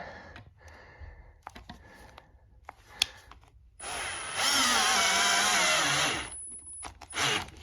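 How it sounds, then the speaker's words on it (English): A power drill driving a screw into a foil table whirs loudly for about two seconds after some quiet handling clicks, then stops, followed by a short final burst. "I'm going to cheat and use my drill because it's quicker."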